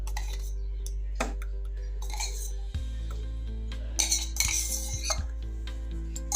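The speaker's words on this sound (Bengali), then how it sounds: "এইভাবে টক দইটা এর সাথে মিশিয়ে দেব" A metal spoon clinks and scrapes against a bowl while mixing sour yogurt for a sherbet, giving several sharp close taps and clinks over a low steady hum.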